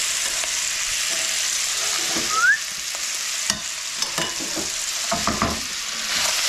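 Steady sizzling of bacon and sausage frying in a pan, with occasional utensil scrapes and clicks over the crackle.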